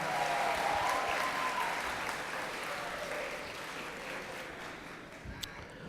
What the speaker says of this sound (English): Let's give a round of applause to our 4K going to